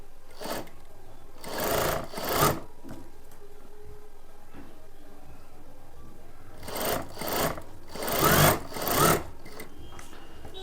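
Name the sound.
sewing machine stitching a folded blouse fabric with long stitches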